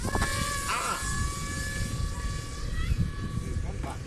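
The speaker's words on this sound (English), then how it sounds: "we were alerted about the arrival of the drone dispatched from Muhanga to bring blood to the hospital" A delivery drone carrying blood arrives at Ruhango Provincial Hospital in Rwanda, its steady propeller whine holding high and even under a murmur of voices and background noise.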